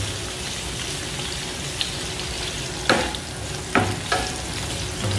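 Onions fry in a pan with a dense, steady sizzle throughout, broken by a few sharp clicks of stirring near the end.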